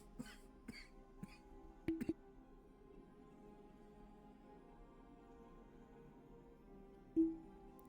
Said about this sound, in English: I've been having like dry coughs as of late.